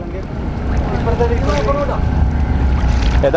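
Wind blowing across an open backwater lake near Valanthakkad Island, heard from a moving boat as a steady buffeting rush with low engine rumble and a brief voice.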